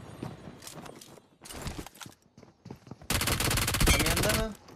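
Rapid automatic gunfire bursts from a firefight in the battle royale game PUBG Mobile, with loud sustained volleys toward the end, alongside quieter shots and footsteps.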